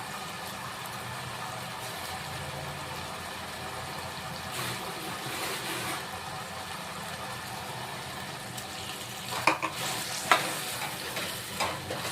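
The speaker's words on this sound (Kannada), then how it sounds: "ಅದಕ್ಕೆ ಇವಾಗ ಆಯಿಲಲ್ಲಿ ಸ್ವಲ್ಪ ಫ್ರೈ ಮಾಡ್ಕೋತೀನಿ ಇದನ್ನು." Raw ground masala fried in oil for a vegetable bath, a low steady sizzle running throughout with a few brief stirring clinks near the end.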